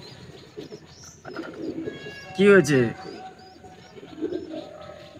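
Young pigeon being hand tamed and fed soaked chickpeas: a short burst of soft cooing and chirping near the microphone, close by, with a person speaking quietly around it.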